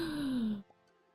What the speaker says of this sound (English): I was breathing it and then it came out as the yawn.